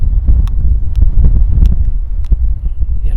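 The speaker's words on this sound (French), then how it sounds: "Il y a le vent qui souffle, j'attends qu'il s'arrête." Gusts of wind buffet the microphone outdoors, producing a heavy, rumbling low-end roar with irregular thumps and pops, loud and continuous with no talking.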